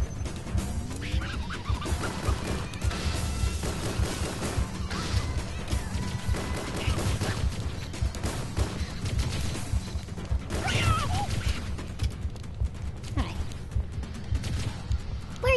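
Halo: Combat Evolved firefight with dense gunfire bursts and impact crashes running continuously throughout, with someone talking over the game action.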